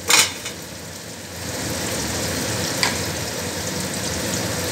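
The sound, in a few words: spices sizzling as they are added for mutton curry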